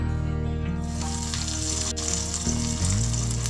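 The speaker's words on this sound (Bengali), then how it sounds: "আমি মিডিয়াম ফ্লেমে কাটলেটগুলোকে ভেজে নিচ্ছি।" Fish egg cutlets deep-fry in hot oil over a medium flame, giving a loud, steady, bubbling sizzle that runs unbroken from start to finish.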